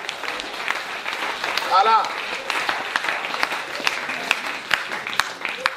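A church congregation in Taravao, French Polynesia, claps and cheers in sustained applause, with a voice briefly speaking over it.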